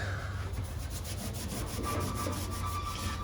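Scrubbing on a rusty surface with The Pink Stuff abrasive cleaning paste, a rapid rhythmic rasping stroke repeated many times at close range, with no talk.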